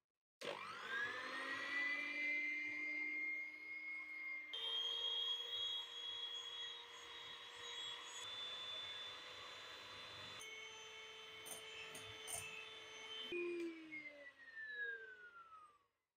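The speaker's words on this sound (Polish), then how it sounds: "I teraz będziemy to ubijać." An electric mixer whips two eggs with powdered sugar in a bowl set over hot water, a steady, high motor whine that shifts pitch as the speed changes and then winds down at the end, with no voices.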